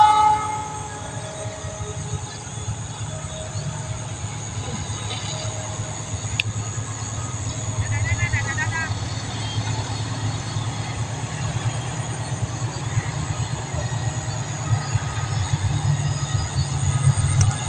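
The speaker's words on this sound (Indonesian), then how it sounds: "Kita tunggu kereta api selanjutnya yang akan melintas di Tiber Kadungora." A passenger train rumbles past close by at Kadungora, near Bandung, Indonesia, for the whole stretch, a heavy steady roar with rattling wheels and a brief horn note partway through.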